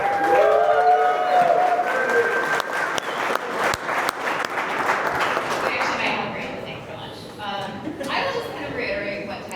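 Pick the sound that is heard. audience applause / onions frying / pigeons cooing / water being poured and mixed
audience applause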